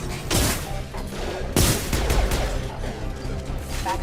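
Shotgun blasts from the video game Mass Effect 2, a sharp loud burst near the start and a heavier one around the middle, set against a constant roar of combat noise and game effects.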